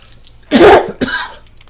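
A close, loud cough followed by a shorter throat clear, two distinct bursts within about a second, with no speech.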